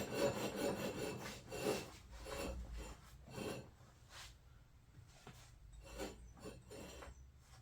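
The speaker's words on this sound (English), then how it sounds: "That is the pulley rubbing on the deck." A pulley rubbing against the mower deck of a Craftsman LT2000 riding mower, a quiet rhythmic scraping and grinding in repeated strokes, fairly faint.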